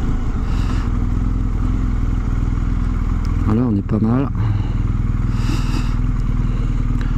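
A BMW R1250GS motorcycle idles close by with a steady, loud, low engine rumble. Someone talks over it, and a brief clatter and thump sound midway.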